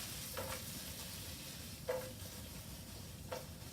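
Onions seasoned with salt and fresh ground pepper fry steadily in a pan, a soft continuous sizzle broken by three brief stirring scrapes spaced about 1.5 seconds apart, with no talking.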